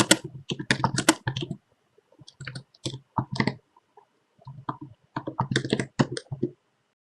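Keys clack on a computer keyboard in quick irregular bursts of typing, close and crisp, separated by short pauses of silence.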